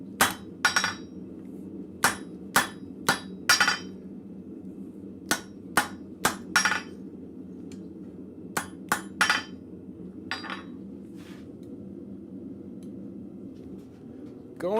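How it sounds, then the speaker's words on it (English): A hammer sets the rivet on a pair of blacksmith flat bit tongs in a forge shop. Sharp metallic strikes come in irregular bursts of two or three, with short pauses between them, against a quiet hum. "I'm going to straighten them up a little bit. Make sure my rivet is set nicely."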